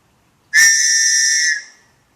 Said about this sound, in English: Straight the whistle that we include in the survival grenade.